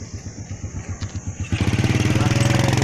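A motorbike engine idles with a steady chugging pulse, then revs up louder and faster, rumbling close by.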